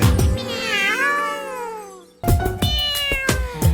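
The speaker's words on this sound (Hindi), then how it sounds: "बिल्ली करती म्याऊ म्याऊ" A cartoon cat in a Hindi nursery rhyme gives a long, drawn-out meow, then shorter mews follow over a rhythmic musical beat, loud and close.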